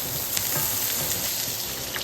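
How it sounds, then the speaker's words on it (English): Bell peppers and onions sautéing in a pan for collard green fried rice, making a dense, even, rain-like sizzle that stays close and steady throughout, with no speech. "In that same pan, saute your veggies, your peppers, and your onions"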